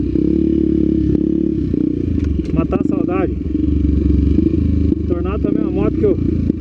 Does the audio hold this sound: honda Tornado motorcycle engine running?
yes